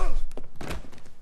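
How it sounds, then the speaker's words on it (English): A couple of dull, thudding punch impacts land during a fistfight in L.A. Noire, short and close, mixed with game sounds and brief vocal noises. "I think I punched him below the belt then"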